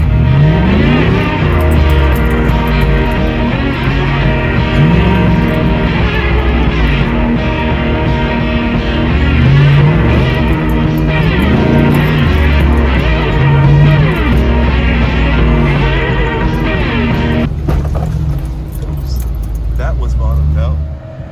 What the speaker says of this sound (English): we're going to see how this thing does in two-wheel drive if you apply some throttle